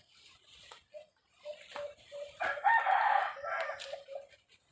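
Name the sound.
labuyo (wild junglefowl) rooster crowing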